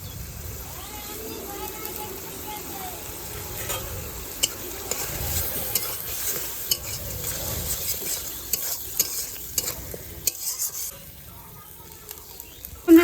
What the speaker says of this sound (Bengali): দেখো মশলাটা আমি একটু ভেজে নিয়েছি ভালো করে